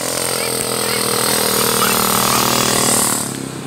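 Children's quad ATVs ride along, their small engines droning steadily and fairly loud for a few seconds before easing off slightly at the end.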